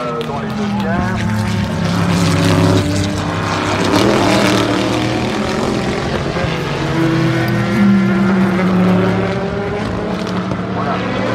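Corvette and Porsche race cars at the 2017 24 Hours of Le Mans roar loudly and continuously, engine notes rising and falling as they pass through a chicane, with a commentator speaking over the noise.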